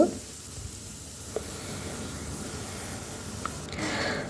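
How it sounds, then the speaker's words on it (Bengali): Onion, garlic and green chili fry in a pan with a soft, steady sizzle, punctuated by a few faint clicks of a spatula, fairly quiet and without talk. "পেঁয়াজ রসুন আর হচ্ছে কাঁচামরিচ দিয়ে দিলাম তো এগুলোকে এখন ভালো করে লাল লাল করে ভেজে নেব"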